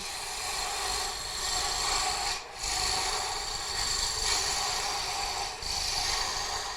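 A gouge cuts a cove into spinning wood on a lathe, making a continuous loud rasping, scraping roar that briefly drops out twice as the tool lifts off, with no talking.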